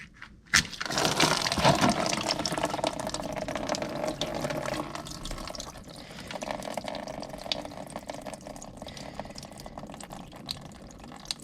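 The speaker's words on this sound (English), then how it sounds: "right at the bottom of your water pump, that bottom bolt is actually a drain. So we're going to drain that." Coolant drains from the bottom bolt of a Can-Am Maverick 1000R water pump, a steady close splashing pour that starts with a sharp knock and runs for about ten seconds, slowly thinning out.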